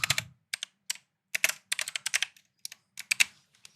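Keystrokes on a computer keyboard come in short irregular bursts of clicks, close and clear against near silence, with brief pauses between words.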